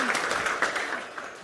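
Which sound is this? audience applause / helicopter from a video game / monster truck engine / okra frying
audience applause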